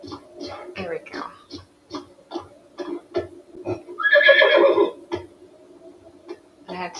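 A horse in the video game Breath of the Wild whinnies in one long, loud, clear neigh near the middle. Clip-clopping hooves and short game sounds come before and after it, and no one speaks.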